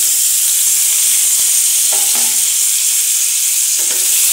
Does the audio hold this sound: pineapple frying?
yes